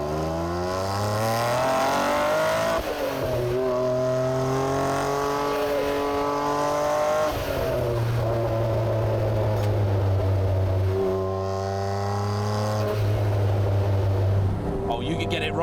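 A Noble M400 sports car with a 6-speed Getrag gearbox accelerates hard from second gear, its engine note climbing loudly and steadily, then dropping sharply at each upshift before rising again, all heard from inside the cabin.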